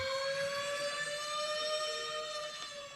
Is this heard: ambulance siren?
yes